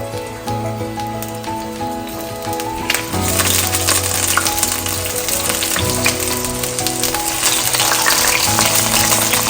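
Tin macro fritters sizzle loudly and continuously in a frying pan, the crackle jumping sharply louder after a few seconds as they are flipped, with a steady tonal hum running underneath.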